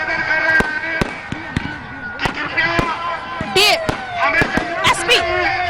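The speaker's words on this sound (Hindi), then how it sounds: "काफी खूबसूरत आतिशबाजी, काफी खूबसूरत नजारा" Fireworks burst at a Ravan Dahan celebration, where a Ravana effigy is burned on an open ground: rapid loud cracks and bangs in an irregular string, with whistling rockets and crowd noise and voices underneath.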